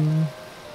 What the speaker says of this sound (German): Und es fängt schon wieder an zu regnen.